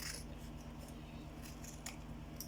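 Scissors cut through handmade sandal material in a few quiet, close snips over a steady low hum.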